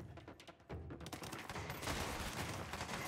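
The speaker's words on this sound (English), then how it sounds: "It looks like a machine gun, but modified some way?" Modified machine gun in the video game Control firing in rapid sustained bursts, dense and continuous with brief gaps, fairly faint overall and with no talking.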